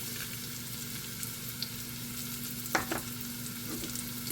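Panch phoron spices fry in hot oil for mango and jalpai pickle, making a steady, quiet sizzle with a few faint pops and one louder stir or clink near the end.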